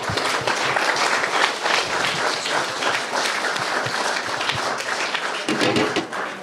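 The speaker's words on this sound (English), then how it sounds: "Clap it up." Sustained applause from an audience at a founder hackathon event in Hamburg, dense and steady throughout with a few louder swells, filling the room.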